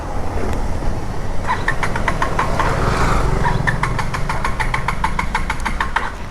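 A KTM Duke 250 third-generation motorcycle engine running near empty: a loud, close, uneven idle with rapid knocking pulses that stutter and fade briefly before picking up again.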